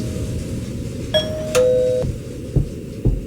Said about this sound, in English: It's a shitty doorbell.